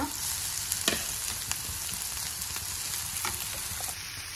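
Green chillies and curry leaves frying in a pan for Karnataka pumpkin bassaru, a constant close sizzle with occasional crackles and light stirring clicks, no voices.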